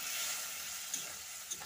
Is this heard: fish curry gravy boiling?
yes